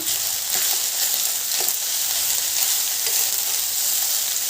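Matar paneer pulao stirred in a pan over a low gas flame, giving a steady close sizzle with faint scraping strokes and no talking.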